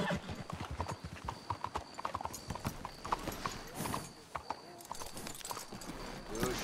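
Horses' hooves clip-clop steadily in the Red Dead Redemption 2 video game, an even trotting beat close by with an occasional whinny, while characters talk over it.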